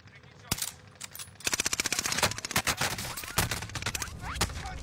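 Rapid automatic gunfire from a Call of Duty match, dense bursts and single shots crackling close and loud, with several players talking and shouting over the shooting.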